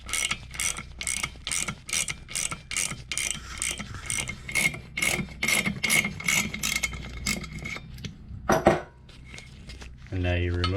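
A valve spring compressor tool for Ford 4.6 and 5.4 engines is loosened with a hand ratchet, giving a long run of rapid, close, metallic clicks, then a clank and a brief buzz.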